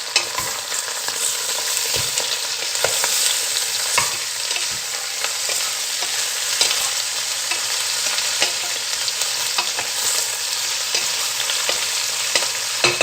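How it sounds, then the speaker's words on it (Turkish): Lamb pieces sear in a pot for a stew and are stirred, giving a steady loud frying hiss broken by scraping stirs and small crackles, with no voices. "Hemen şöyle etini karıştırıyorum."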